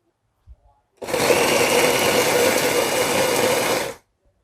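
Electric blender grinding a Thai curry paste of garlic, kaffir lime zest, lemongrass and black pepper, a loud steady whirring burst of about three seconds that starts and stops abruptly, with no talking over it.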